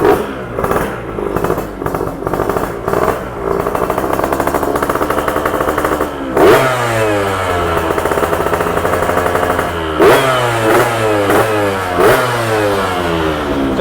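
A two-stroke motorcycle engine runs close by with a rapid, buzzing putter, then is revved several times with rising and falling whines.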